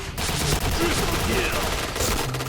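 Sustained automatic gunfire in the Point Blank shooter rattles loud and close, with a dense run of rapid shots continuing without pause throughout.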